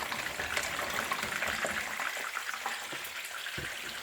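Fish fries in oil in a covered pan, giving a continuous crackling sizzle with scattered pops, steady and close throughout.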